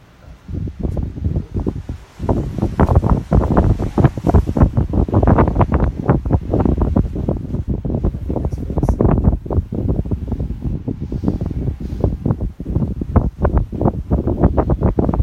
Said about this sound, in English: It's very, very, very windy here